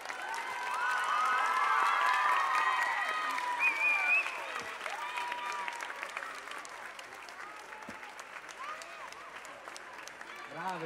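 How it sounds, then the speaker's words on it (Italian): Applause and cheering fill an ice skating gala hall, with loud clapping and shrill whistles and shouts at the start, then a long steady roll of clapping that slowly quiets, a voice briefly over it. "Un fortissimo applauso."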